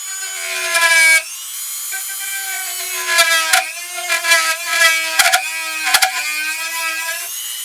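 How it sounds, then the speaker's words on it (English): A cutting tool bores into the wood of a handmade ventriloquist dummy with a steady, loud whine that rises in pitch, cut by short grinding bursts where the bit bites into the wood. "we're going to take this cutting tool and we're going to bore this out a little bit."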